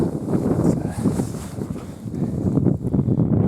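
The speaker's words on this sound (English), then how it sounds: "It's gotten windy." Steady rushing wind on a snowy hiking trail buffeting the microphone, a loud continuous roar that swells and dips without any talk.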